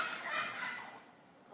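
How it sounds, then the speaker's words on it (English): Backyard chickens squabble over spent brewing grain, letting out a rough, gobbling squawk that fades within a second, with some faint scratching after. "The chickens are fighting."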